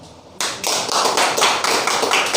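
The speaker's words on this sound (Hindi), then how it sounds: "रमेश के लिए भी एक बार ताली" An audience at a DXN meeting breaks into applause, a sudden burst of dense, close clapping from many hands that continues steadily and loudly after a quieter start.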